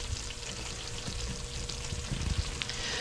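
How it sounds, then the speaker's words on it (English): Melted cheese on a baked mac and cheese sizzles steadily after coming out of the oven, a close, continuous crackle that stays soft, with a few small pops. No one speaks. "I stopped the music so you guys could hear the sizzle sizzle of the melted cheese"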